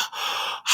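A voice imitates heavy breathing with two drawn-out, breathy exhalations close to the mic, separated by a short pause, with no talk.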